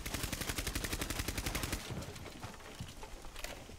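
Rapid automatic gunfire in Rainbow Six Siege, shooting out a Jammer on the Bank map, fires as a fast burst for nearly two seconds before trailing into scattered shots and clatter.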